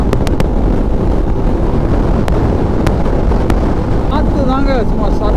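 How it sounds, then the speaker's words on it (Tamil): Steady wind buffets the microphone on a motorcycle road trip to Ladakh with a constant rushing roar, broken by a few sharp clicks and faint tonal chirps near the end. "காற்று தாங்க சும்மா சல்லு அடிக்குது."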